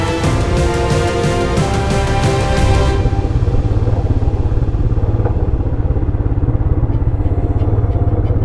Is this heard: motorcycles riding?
yes